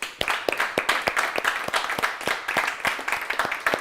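Applause for a prize winner at an online mobility competition's closing ceremony, with sharp, fairly even claps in a steady rhythm, close and moderately loud, as if from a small group or a single person.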